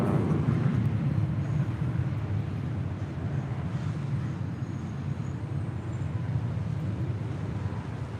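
A Boeing 737 MAX 9 airliner at LAX, a steady broad engine roar with low rumble and wind-like noise holding at an even level throughout.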